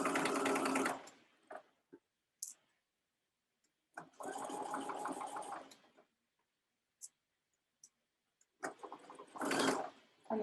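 A sewing machine stitches a dress seam in short bursts: a buzzing run, a longer steady run, then a final burst, with quiet gaps and small clicks between and no talking.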